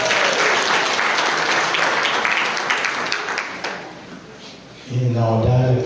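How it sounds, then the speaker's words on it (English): A funeral gathering breaks into a big round of applause, dense and sustained clapping from a crowd that dips briefly before a voice speaks over the last moments. "Give yourselves a big round of applause."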